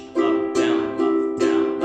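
A ukulele strummed in a pattern, with four bright, ringing chord strokes in an even rhythm, loud and close with no voices.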